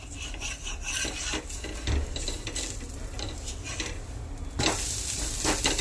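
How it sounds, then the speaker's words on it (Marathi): Sambar is churned with a wooden ravi, making close, rhythmic rubbing and swishing strokes with a faint wet sizzle underneath and a louder burst of friction near the end. "आता ह्याला छान ढवळून घेते रवीने"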